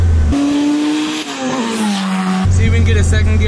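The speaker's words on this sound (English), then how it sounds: "second gear burn out" A 500 hp hatchback does a second-gear burnout, its engine holding a loud steady drone with tires squealing continuously close by, pitch dipping then rising as the revs change.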